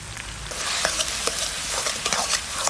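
Onion, garlic and chili fry in a pan, making a steady close sizzle broken by scattered clicks and scrapes as they are stirred.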